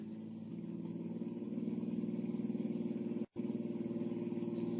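A car engine drones steadily at speed during a chase toward a bridge, a continuous mid-pitched hum with one brief cutout near the end.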